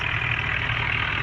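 A New Holland tractor engine in the Indian Vehicles Simulator 3D game runs at a steady idle, a continuous low, even rumble with no talking.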